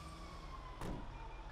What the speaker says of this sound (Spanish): han sonado las puñeteras sirenas